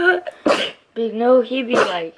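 A quick, sharp sneeze-like burst cuts between spoken words, with talking before and after it.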